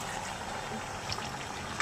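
Mutton sautéing (kosha) in a pan for a red, fiery mutton curry: a steady, close hiss of frying with a brief clatter near the end, and no talk.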